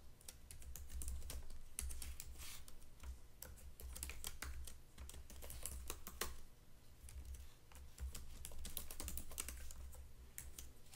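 Steady, rapid clatter of keys on a computer keyboard as a Python script is written, close and fairly quiet, running continuously for several seconds with brief pauses and no talk.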